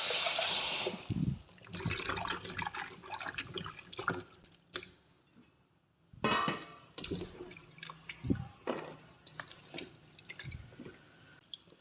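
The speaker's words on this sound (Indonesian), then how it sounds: "Ini kentangnya kita cuci ya." Potatoes being washed in water by hand, with splashing, dripping and sloshing in bursts, close and fairly loud, broken by brief pauses.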